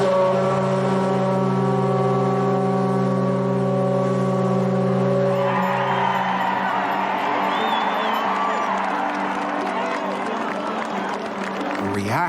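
Titanic's steam whistles blow a long, loud, steady chord of layered tones, and partway through a crowd's roar and cheering rises beneath them before the whistles cut off.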